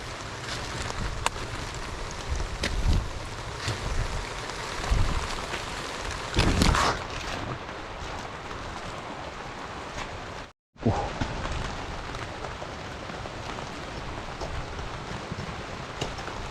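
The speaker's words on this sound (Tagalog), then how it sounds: "ulan" Steady rain patters and hisses throughout, with a few louder gusts and a brief dropout near the end; no voices.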